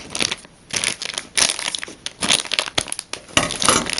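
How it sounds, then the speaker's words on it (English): Scissors snip and crinkle through a plastic bag of small parts for a junkyard TARDIS figure, giving a run of close crackling, crumpling bursts with no talk. "This is definitely a scissor job. To cut open this bag of bits."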